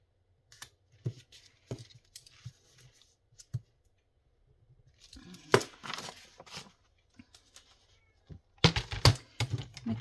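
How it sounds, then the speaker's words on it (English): A female cat cries and meows outdoors in a few scattered calls, with louder bursts near the end among clicking and rustling noises close by. "My cat's out there crying her head off"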